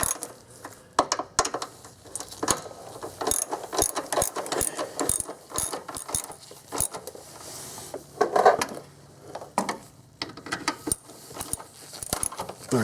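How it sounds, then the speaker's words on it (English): A hand ratchet clicks in quick bursts while bolts are tightened on Westin running boards being fitted to a 2001 Infiniti QX4, close and sharp, with irregular pauses and occasional metallic clinks between strokes. "don't tighten them all up till we can get them tight, but don't torque them down yet"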